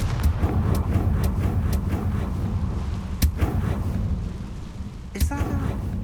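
A Confringo blasting spell goes off in Hogwarts Legacy, a sharp, loud burst at about three seconds and another near five seconds, set against a steady rumbling, rain-like ambient bed.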